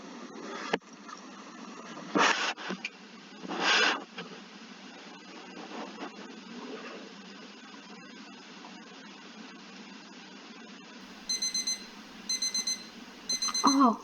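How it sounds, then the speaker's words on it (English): An alarm clock rings in short repeated bursts of bright beeping near the end, following a stretch of quieter background with a few louder swells. "Suddenly the sound of the alarm clock reaches my ears."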